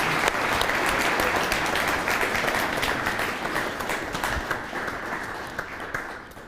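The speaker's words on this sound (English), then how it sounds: "I would like to thank all the panelists, and if you can give them a round of applause." Audience applause for the panelists at a cybersecurity forum in Mississauga, a steady, full round of clapping from a crowd that gradually thins and tapers off toward the end.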